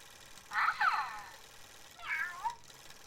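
Two close, moderately loud cat meows from a pet kitty, a longer one first and a shorter, rising one about a second later, over a quiet background.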